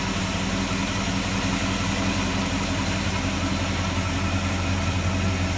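A 1966 Ford Fairlane GTA's 390 V8 idles smoothly and steadily close by, a continuous low rumble with even vibration, no voices over it.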